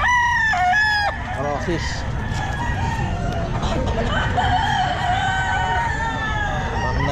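A henny gamefowl rooster crowing at the Bocaue pet market, one loud close crow at the start, followed by clucks and other fowl sounds over constant crowd noise and talk.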